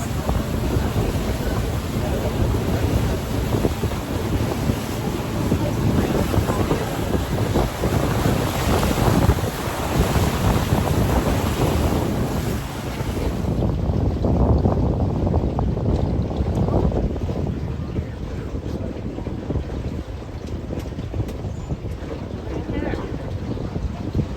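A tour boat motors across open water at Ponce Inlet, Florida, with a constant rushing wash and heavy wind buffeting the microphone throughout.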